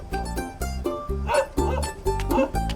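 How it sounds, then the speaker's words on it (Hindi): A dog barks repeatedly in a fast, steady series of about eight loud, close barks, each short and evenly spaced, with hardly a pause between them. "कुत्ते ऐसे ही भौंकते रहेंगे, तुम डरो मत।"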